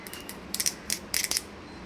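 Garlic and curry leaves pounded in a mortar for a home cooking dish, heard as a few sharp, close knocks in uneven clusters over quiet background, with no talking.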